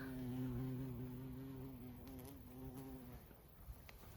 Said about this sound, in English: Look at the nasturtiums. They have a lot of bees.